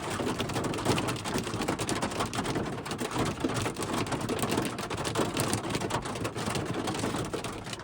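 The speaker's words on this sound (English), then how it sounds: "And now there's hail." Hail and heavy rain pelting down in a storm, a dense, continuous patter of rapid impacts without pause; no thunder stands out.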